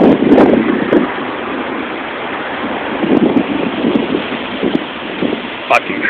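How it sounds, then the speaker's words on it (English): Heavy wind buffets the microphone outdoors in Southern California during a rare lightning storm with rain. Gusts rise and fall in bursts, and rain patters beneath them. "Fucking crazy lightning storm."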